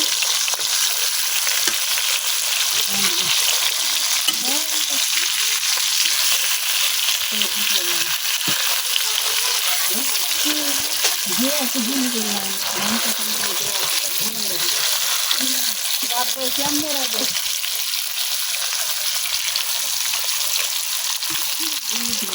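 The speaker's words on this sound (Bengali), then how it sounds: "মাছগুলো কিন্তু এক সাইড হয়ে গেছে আমি আরেক সাইড উল্টাই দিতেছি" Freshly caught pond fish fry in a hot pan as they are turned over. A loud, continuous sizzle runs throughout, with intermittent scraping and shuffling as the pieces are flipped.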